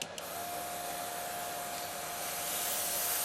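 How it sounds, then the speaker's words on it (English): An airbrush sprays Tamiya primer as a steady, even hiss of air and paint that runs unbroken from start to finish, close and moderately loud, with no talking. "It's a good airbrush, very easy to maintain."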